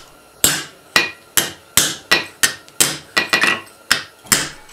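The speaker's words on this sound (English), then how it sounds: "I'm going to take it to the anvil and hammer it out." Sharp metallic hammer blows on angle iron against an anvil ring out one after another, about a dozen strikes at a steady working rhythm, each with a brief ringing decay.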